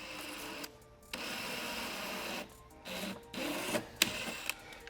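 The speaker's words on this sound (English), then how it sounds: "You'll notice I drilled it pretty easily." A power drill bores a hole through a thin 1/8-inch SMC fiberglass panel on a C8 Corvette Stingray, a steady close whir in two or three short bursts separated by brief pauses, with no talking.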